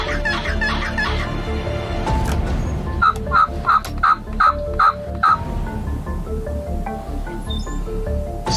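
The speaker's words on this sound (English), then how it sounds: "Now I had heard other birds gobbling" A wild turkey gobbler in the woods during turkey season lets out rapid gobbles, with a burst of repeated rattling notes in the middle, loud and near, over other bird calls.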